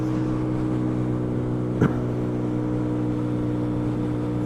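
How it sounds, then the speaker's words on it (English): A steady engine hum with a constant low drone from a 150cc Italika motorcycle cruising at even speed in Mexico, with a brief rattle near the start. "So, I am riding a 150cc Italica."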